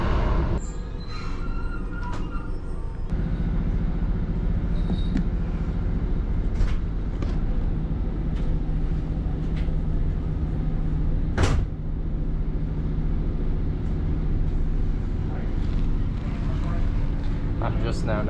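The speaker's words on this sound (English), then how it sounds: "Yeah, it's a pretty comfortable train." A steady low hum and rumble inside a moving train carriage between Hawarden and Liverpool, with scattered clicks and thumps and a few soft background sounds.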